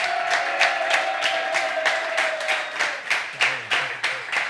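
A studio audience at a Sud Radio comedy show with Les Chevaliers du Fiel claps in bursts: a near, rhythmic clapping with a few sharp individual claps coming through and a faint tone underneath.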